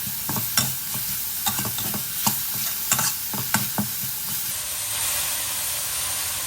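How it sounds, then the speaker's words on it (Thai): Minced pork stir-fried with holy basil, dried chili and oyster sauce in a hot pan: a constant sizzle punctuated by sharp spatula scrapes and clanks every second or so, fading to a softer hiss near the end. "ผัดให้เกือบเกือบสุกเลยนะฮะ"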